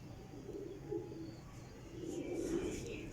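Golden blade-line pigeons, young birds about a year and a half old, kept by a fancier in Jhelum, coo softly and steadily at close range, with two swelling bursts of cooing and faint chirps over a low background hum.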